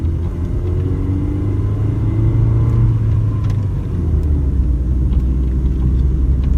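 A Mercedes-Benz W202 engine pulls up a steep incline in second gear on rough Nairobi roads, giving a loud, steady, low rumble that stays continuous throughout with no voices.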